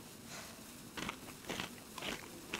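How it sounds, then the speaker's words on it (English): Crunching bursts from the DayZ Namalsk game, roughly four sharp crackly hits spaced about half a second apart over a steady low background hiss, moderately close. "Yeah, do you hear crunching?"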